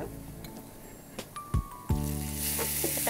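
Tomato puree poured into a hot pan of garlic in olive oil, a few clinks and a splash followed by a rising, steady sizzle that fills the last second, fairly quiet and close.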